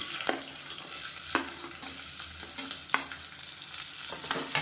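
Halved shallots sizzle and crackle in hot oil in a pan while being stirred, for Madurai-style mutton sukka; the frying hiss is steady and close, broken by several sharp scraping strokes of a spatula, with no voices.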